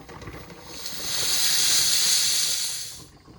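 A pressure canner processing green beans at 11 pounds of pressure lets out a loud, steady steam hiss that swells after a second, holds, then fades near the end, alone without talk.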